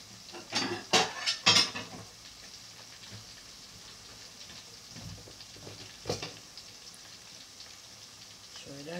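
Cauliflower frying in a pan, with a soft sizzle under clinks and scrapes of a utensil against cookware; a few sharp knocks cluster early, one comes later, and there is no talk.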